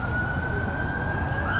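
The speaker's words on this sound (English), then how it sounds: "We got sirens." An emergency vehicle siren wails as a steady, loud tone in a city street during a presidential inauguration day, with traffic rumbling underneath.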